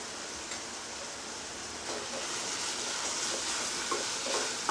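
Spices with turmeric sizzle softly in a pan over a medium flame, a steady hiss with occasional faint scrapes of stirring, fairly quiet and with no voices.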